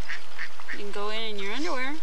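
Ducks quack nearby at a cold-water plunge spot, giving a short run of nasal calls while a person speaks over them.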